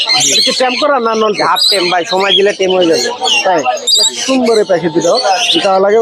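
Constant loud squawks and chirps of parrots, lories and lovebirds at the Mirpur 1 bird market in Dhaka crowd together with people talking, a dense, noisy chorus without pause.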